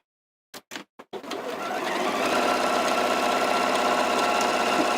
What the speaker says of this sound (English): I'm sewing through all the layers, so I'm actually quilting from the back at the same time as I'm sewing at the front